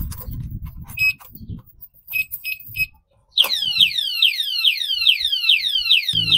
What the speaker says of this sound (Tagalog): Ang lakas ng alarm padlock na to